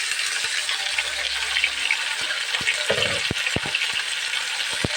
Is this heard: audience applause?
no